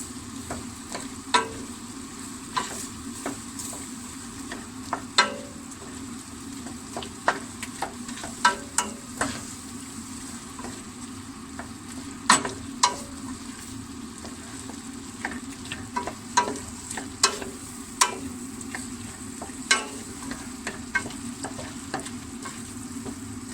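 Steady frying sizzle fills the pot as a spoon stirs tomato paste and vegetables for soup, with sharp scraping clicks against the metal scattered throughout.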